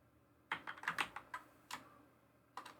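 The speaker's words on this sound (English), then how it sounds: "My hands are so heavy on this keyboard I have." Keys clatter on a computer keyboard, with quiet, close bursts of several quick keystrokes separated by short pauses.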